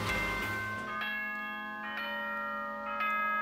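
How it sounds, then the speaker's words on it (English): A school bell chimes in the Danganronpa: Trigger Happy Havoc video game, a steady electronic ringing tone repeating in pulses about once a second, loud and clear with no talking over it. "that main bell"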